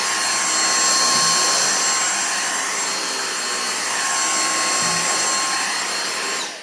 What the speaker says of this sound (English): Now I'll just run over it with this Hoover, sorry, with this attachment